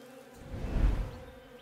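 A buzzing insect in the western survival video game Above Snakes, a low droning hum that swells as it passes close and then fades, heard alone.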